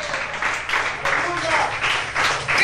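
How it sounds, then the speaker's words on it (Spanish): A church congregation claps along steadily and loudly throughout, with a preacher's voice speaking over the rhythmic applause. "Dele fuerte esas palmas al Señor"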